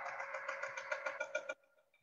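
Sewing machine stitching the stem piece of a quilt sampler block, a close rapid run of even needle clatter lasting about a second and a half, then stopping to near quiet.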